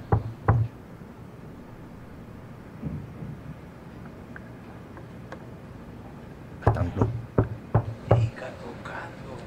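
Knuckles rap on a door in short clusters of firm knocks, one brief burst early on and a louder run of several knocks near the end, with quiet room noise in between.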